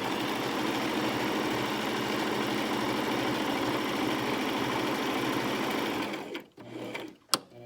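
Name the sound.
sewing machine stitching a Christmas stocking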